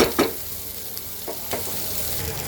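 Onions and green chillies hiss in a pan near the mic, a continuous frying sizzle punctuated by a couple of brisk stirring scrapes at the start and middle.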